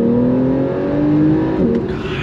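The engine of a Porsche 911 Carrera S accelerates, loud and close. It is a steady, rising drone with a gear change partway through, and no voices are heard.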